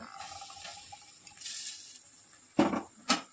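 Roasted Gobindobhog rice powder being stirred into a dark fishing bait mix, with faint scraping, then two sharp knocks against the bowl near the end.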